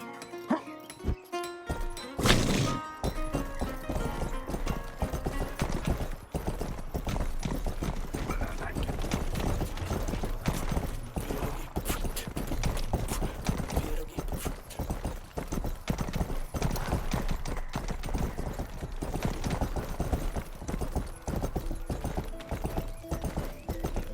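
Horse hooves clip-clop steadily throughout in the farming video game Rustler, a continuous rhythmic trotting under background game music and effects.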